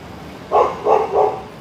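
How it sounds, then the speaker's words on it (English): A dog gives three quick, loud barks in a row, close by, with no talk over them. "the dog is barking because there's a gentleman that showed up"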